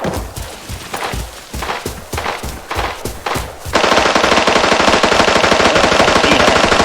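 Gunfire in the shooter game Arena Breakout: irregular clusters of close, heavy shots at first, then a sustained, dense burst of rapid automatic fire that continues loud to the end.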